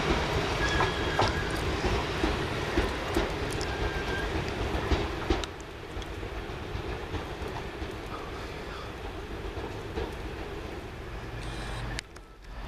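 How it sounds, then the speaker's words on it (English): A cross-country passenger train, the Bournemouth to Manchester Piccadilly service, runs into Wolverhampton Station with a steady rolling rumble and some wheel clatter. The noise stays fairly loud and close, then eases near the end. "Just on the approaches here to Wolverhampton Station, the 13:15 cross-country service from Bournemouth to Manchester Piccadilly via Stoke-on-Trent"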